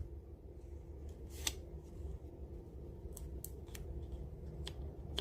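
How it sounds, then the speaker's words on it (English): Scissors snipping into the corner of a box frame in a DIY diner-themed build: several sharp, close cuts scattered over a quiet, steady background hum, no voices. "snip into this corner here"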